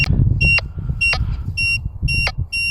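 A metal detector with a 16-inch concentric coil gives a high electronic target beep with a ringing overtone, repeating about every half second, sharp and clear over a low background rumble.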